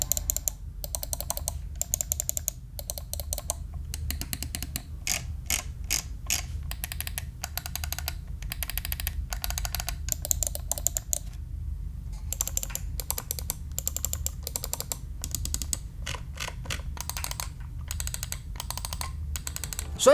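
Rapid clicking of computer mouse buttons, including mushy side buttons with long travel, in a steady run of dense, close clicks with a brief pause near the middle and no talking.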